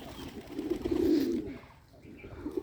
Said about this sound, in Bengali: দেখুন বোম্বাই কবুতরটা কি সুন্দরভাবে ডাকাডাকি করে।